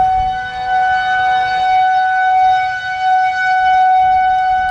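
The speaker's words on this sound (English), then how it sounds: "You hear the sirens." A steady, wailing tornado warning siren sounds continuously outdoors during a tornado outbreak, loud and sustained with a slight rise and fall in pitch, no voices present.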